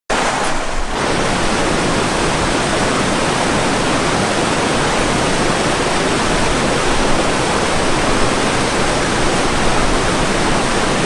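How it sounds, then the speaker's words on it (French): A shallow, rocky river in the Canadian wilderness rushes past in a steady, loud, full wash of water that never lets up, with no voices. "Le lit de la rivière devient extrêmement peu profond et rocailleux."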